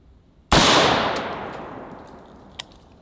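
A 350 Legend round fired from an AR rifle's long barrel at an outdoor range: one sharp, very loud report with a long fading outdoor tail, then a faint distant impact a couple of seconds later.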